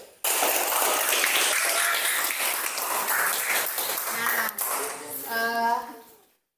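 A classroom of students applauds group 1 after their presentation, a burst of many hands clapping that begins abruptly, holds steady, then tapers off under a few voices.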